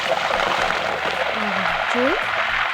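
Loud, dense sizzling and spattering as a spoon of salted water hits hot oil with frying potato chips, a constant roar with a brief voice-like tone near the end.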